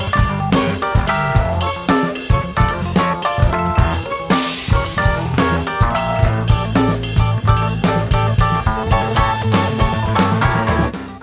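A Keyscape Wing upright honky-tonk piano plays alongside a Rhodes electric piano in a full song mix, with a steady rhythmic pulse of chords throughout.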